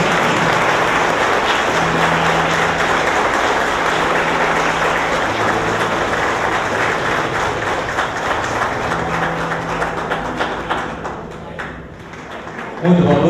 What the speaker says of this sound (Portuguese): Vamos aplaudir nossas crianças, Senhor.